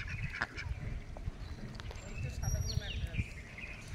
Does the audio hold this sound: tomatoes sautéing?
no